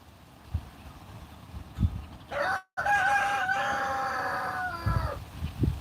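A rooster crows loudly and at length, its drawn-out call rising and then holding, with a few low thumps before and after.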